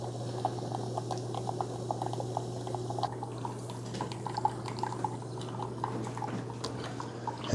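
A Keurig K-Supreme Plus single-serve coffee maker running a rinse pod cycle, a steady low motor hum under continuous trickling, dripping and gurgling water, moderately close.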